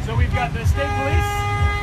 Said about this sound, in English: This is supposed to be a no honking event.